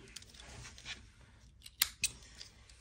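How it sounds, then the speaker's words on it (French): Scissors snip through crochet yarn in a few quick, close cuts, sharp clicks standing out against a quiet room at the end of a crocheted round. "je vais couper mon fil"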